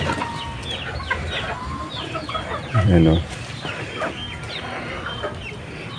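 Chickens and a Rhode Island rooster cluck at a rural farm while feed is thrown, with one short louder call partway through, under someone speaking casually.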